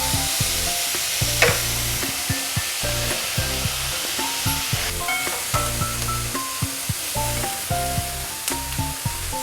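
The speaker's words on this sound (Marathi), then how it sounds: "पण ब्राऊन कलर येईपर्यंत कांदा भाजायचा." Chopped onions fry and are stirred in a pan until browning, a continuous close sizzle with repeated scraping and stirring knocks throughout, no voices.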